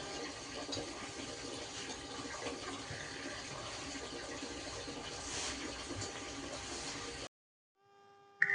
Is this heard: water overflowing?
yes